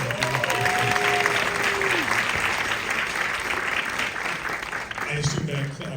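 An audience at a film Q&A for Killers of the Flower Moon claps loudly and steadily throughout, with a voice briefly heard over the applause.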